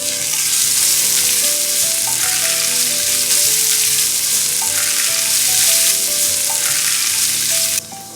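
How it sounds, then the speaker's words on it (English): Finely chopped onions frying in a pan for Maharashtrian cooking, a loud, dense, continuous sizzle with faint stirring, dropping abruptly in level near the end. "we are frying the onions till it becomes translucent"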